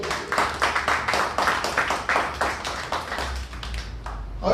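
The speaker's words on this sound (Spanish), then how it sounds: "Vamos a dar un fuerte aplauso a nuestro Dios." A congregation in a Spanish-speaking church claps for God in a rhythmic, pulsing pattern of steady beats, with a low hum underneath, easing off near the end.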